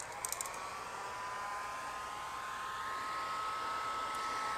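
A heat gun blows steadily and softly close by as it warms a vinyl wrap on a Ford Bronco Sasquatch beadlock wheel ring, a continuous airy hiss with a faint whine.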